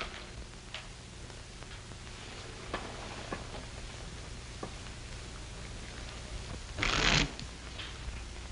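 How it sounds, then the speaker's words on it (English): A deck of playing cards shuffled in a 1939 western, a short dry riffling burst near the end after a few faint ticks and light clicks over a quiet hum. "Shuffle and deal."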